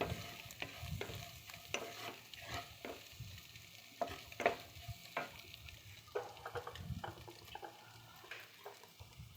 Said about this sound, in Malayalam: കുരുമുളക് പൊടി ഇട്ടിട്ട് ഇളക്കി കൊടുക്കുക.